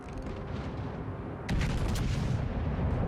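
Naval gunfire from a warship in the video game World of Warships, a low rolling boom that swells suddenly midway over continuous deep rumbling.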